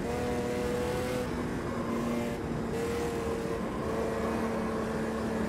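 An Opala Old Stock race car's engine drones in Automobilista 2, a steady loud hum with its pitch rising and falling through shifts, continuous and close, no voices.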